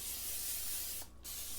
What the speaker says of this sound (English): I'm going to spray this foil.